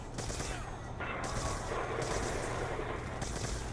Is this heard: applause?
no